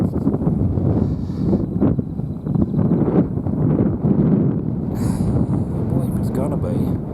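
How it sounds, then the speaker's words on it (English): Wind buffets the microphone outdoors in steady, rumbling gusts, with someone talking through the noise. "The wind's terrible, you might not be able to hear nothing."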